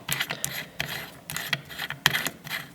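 A threaded collar on a 1973 Baja Bug side rail is turned loose by hand, giving a run of close, irregular metallic clicks and ratcheting grinds in short bursts.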